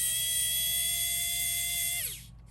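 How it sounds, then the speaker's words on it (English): A small electric screwdriver whirs steadily with a high, even motor whine while backing a screw out of a G-Shock DW6900 watch, then winds down and stops near the end, heard close up with no talking. "little trusty screwdriver, mechanical one, because I hate using the manual one"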